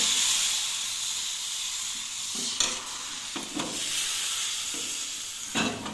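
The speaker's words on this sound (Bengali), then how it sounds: "এবারে আমি ভেজে দেখাবো" Malpua batter frying in white oil, a steady close-up sizzle and hiss with a few brief bursts of spattering and stirring.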